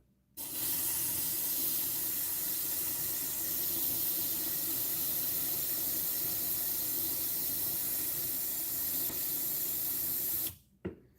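An airbrush runs liquid through in a steady, unbroken hiss for about ten seconds, laying a desert-toned overspray on a 20mm figure. The spray is close and even, then cuts off abruptly at the end.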